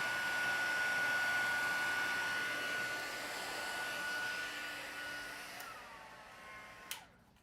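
A hair dryer blowing over a wet watercolor painting of flowers, a steady loud airy whoosh with a faint whine that fades as the dryer is switched off near the end, with no voices.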